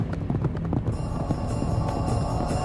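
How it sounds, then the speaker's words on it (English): Fast horses of pursuing soldiers gallop in a steady, dense drumming of hooves, loud and continuous, with no voices over it. "soldiers could be heard giving chase. Their fast horses were gaining steadily."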